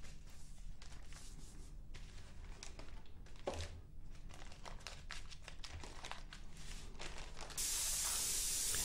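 A SATA Mini Jet 4 spray gun with a 0.8 setup at 40 psi, wide open, lays down semi-opaque bright blue paint in a steady close hiss with crinkling masking paper, the spray surging louder near the end.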